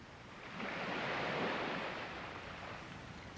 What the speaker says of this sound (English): the rogue waves again